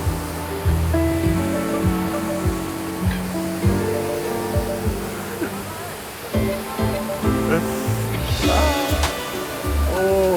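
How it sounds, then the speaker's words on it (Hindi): Chigu Falls in Arunachal Pradesh roars as a steady, loud rush of falling water, with people talking over it close by. "बड़ा पानी निकल रहा है यहाँ से तो"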